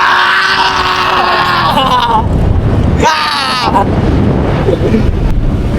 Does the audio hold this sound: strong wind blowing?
yes